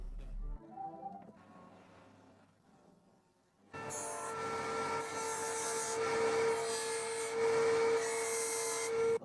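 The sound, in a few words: sanding and rounding wood edges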